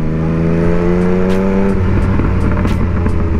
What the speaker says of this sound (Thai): เป็นรถ3สูบเสียงมันมีเอกลักษณ์มากนะเดี๋ยวลองฟังดู